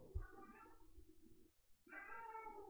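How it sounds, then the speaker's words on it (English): A domestic cat meows nearby in two drawn-out cries separated by a short pause, with the second call louder and brighter, and no one talking. "I'm gonna need to check if my cat is okay."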